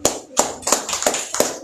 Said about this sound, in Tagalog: Palakpak sa Lord.